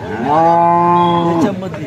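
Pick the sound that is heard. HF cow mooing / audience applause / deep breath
HF cow mooing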